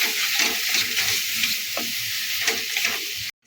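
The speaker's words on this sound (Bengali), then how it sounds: "ভালো করে মেশাবো ওই এক মিনিট সময় ধরে আমি একটু ভালো করে নেড়ে চলে নেব" Sago and potato mixture being stirred in a hot pan, a steady, close frying sizzle with soft scraping strokes that cuts off abruptly at the end.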